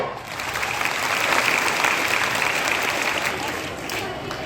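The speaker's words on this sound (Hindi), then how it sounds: "तो एक बार ताली बजाओ" Students at a school Independence Day ceremony in Ara clap together in a steady, dense wash of applause that holds evenly throughout, with some crowd murmur underneath.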